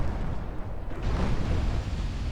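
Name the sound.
warship firing HE shells, video game Ultimate Admiral Dreadnoughts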